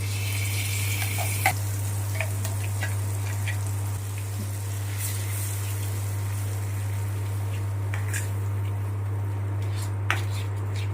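Water goes into a hot pan of oil and ground cumin tempering for a chutney, giving a soft sizzle and bubbling with scattered splashes and clinks over a low steady hum.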